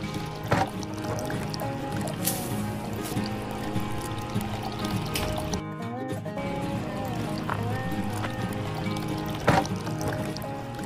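A toy farm machine pours water onto a small play field, making a soft continuous trickle and splash. Someone talks over it the whole time, and music-like tones run in the background.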